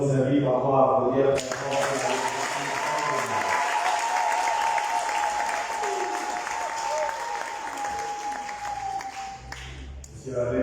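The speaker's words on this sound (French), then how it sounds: "Je vous invite encore à applaudir." A congregation at a jubilee mass bursts into full applause as music cuts off, many hands clapping loudly and steadily for several seconds before music returns.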